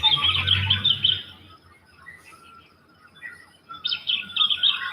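Birds chirp and twitter in Australian bush among tall gum trees, bright clustered calls fairly close by, fading between bursts over soft ambient background with no talking.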